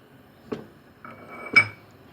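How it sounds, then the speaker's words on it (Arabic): Rice stirred in a cooking pot of boiling water, three clear metallic scrapes and clinks of a spoon against the pot, close and fairly quiet with gaps between strokes. "هقلبها كويس كده عشان ما تلزقش في الحله"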